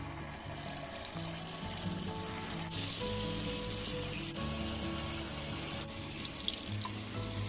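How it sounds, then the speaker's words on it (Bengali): Ripe mango fritters fry steadily in hot oil, a dense continuous bubbling hiss with a low hum underneath and no voices. "এবার বাকিগুলো আমি ভেজে তুলে নিলাম।"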